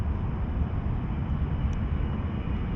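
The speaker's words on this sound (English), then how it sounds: "He's probably going to do a touch and go." A KC-135 refueling plane doing a touch and go at an airfield, its engines giving a steady, broad jet roar throughout with no talk.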